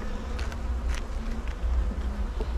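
A dense swarm of bees crawls over a hive frame, their buzzing a close, continuous hum that swells and thins with wingbeat flutters and no voices.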